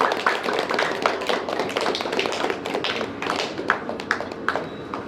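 An audience applauds in welcome at a yoga philosophy study gathering, with dense, steady clapping from many hands sounding close and loud throughout and no speech on top.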